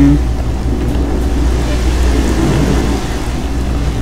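Heavy rain and a low, rolling rumble of thunder fill a storm scene in the game S.T.A.L.K.E.R. Shadow of Chernobyl. The steady, loud wash keeps going without a pause, and no one speaks.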